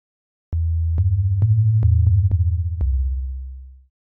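A deep, smooth sub bass tone from oscillator B of the Serum synthesizer playing a short sequence of low notes with soft clicks at each change, then sustaining and fading out.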